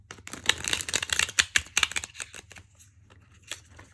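A deck of tarot cards is riffle-shuffled up close, a fast crisp flurry of flapping and snapping card edges that thins into a few scattered taps, with no voices.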